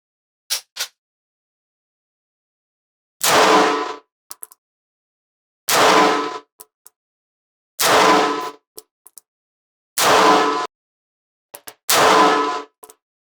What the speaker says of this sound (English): Let's start with our Roscoe, 5 shots, center mass at our silhouette.